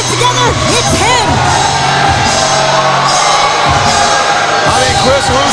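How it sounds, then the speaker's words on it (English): Loud wrestling crowd at a SmackDown broadcast, roaring, whooping and cheering continuously throughout, with rising shouts and a dense wall of voices. "Listen to this crowd."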